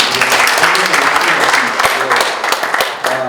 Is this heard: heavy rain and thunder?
no